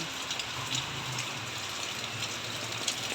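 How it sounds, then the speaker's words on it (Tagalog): Heavy rain from an approaching typhoon pours down in a dense, constant hiss of drops striking surfaces, loud and unbroken throughout. "lumalakas na talaga yung ulan, oh. Lumalakas na naman ang ulan kasi may bagyo."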